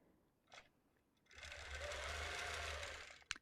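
A quilting sewing machine, fitted with a ruler plate, stitches steadily through fabric; after a faint brief tap, a near, even motor whir runs for about two seconds, then stops with a sharp click.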